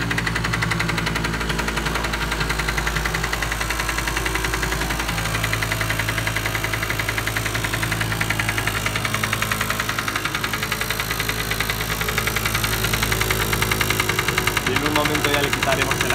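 A Yamaha LB50 Chappy moped converted into a cafe racer idles close by with a rapid, even single-cylinder putter and a slight knock. Someone talks over the running engine.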